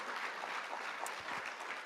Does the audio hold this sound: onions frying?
no